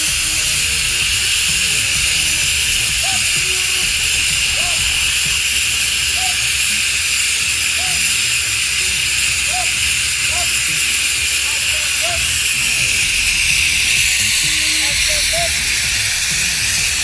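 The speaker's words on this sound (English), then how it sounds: "valve that is leaking noxious gas from a tank" A steady, loud hiss of noxious gas escaping from a leaking tank valve during a hazmat drill runs unbroken from start to finish, with faint scattered background sounds beneath it.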